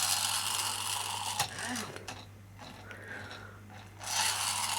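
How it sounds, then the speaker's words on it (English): A Dapol Doctor Who Dalek pull-back-and-go toy figure gives off faint ratcheting, gear-whirring clicks and scrapes under a steady background hum, quiet and close, with no speech. "these were pull back and go"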